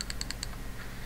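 Quick clicks of a computer keyboard as a five-letter word is typed into an escape puzzle game: five crisp, evenly spaced keystrokes in rapid succession, then a short pause and one more click, close and clear.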